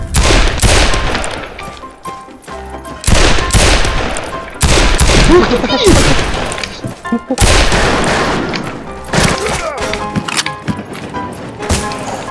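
Rapid bursts of gunfire and heavy booming explosions in the video game Fistful of Frags come in loud repeated waves, with a brief excited shout from a voice amid the chaos.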